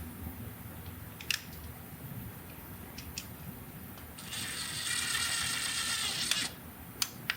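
Ratcheting clicks of a screwdriver tightening a terminal screw on a GFCI outlet wire, a few sharp ticks followed by a steady buzzy ratchet run, quiet and close.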